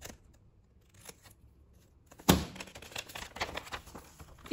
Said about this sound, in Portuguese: Que agora eu vou cortar essa parte.